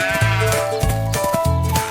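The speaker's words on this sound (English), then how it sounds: "Mommy sheep called ba ba ba" A sheep bleats loudly and repeatedly, three drawn-out calls in quick succession, close by with no talking.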